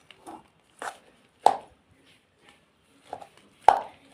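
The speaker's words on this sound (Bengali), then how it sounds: "একটু খুন্তিটা দিয়ে কেটে কেটে দেবো" A metal spatula chops and presses green mango pickle into spices, giving sparse, separate dull knocks and scrapes at an uneven pace, close and fairly quiet.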